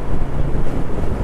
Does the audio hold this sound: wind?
yes